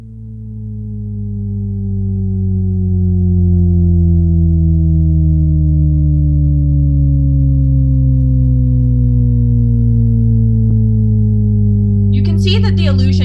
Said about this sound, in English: the illusion comes from this conveyor belt of new tones that are being added to the chorus of frequencies in this sound that then slowly fall